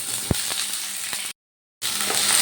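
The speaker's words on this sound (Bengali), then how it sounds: "তেলটা গরম হয়ে গেছে এবার আমি তেলের মধ্যে কেটে রাখা ঝিঙেগুলো দিয়ে দিলাম" Sliced ridge gourd dropped into hot oil, a close, bright frying sizzle with a few sharp pops and stirring clinks, cut by a brief silent gap before the hiss resumes.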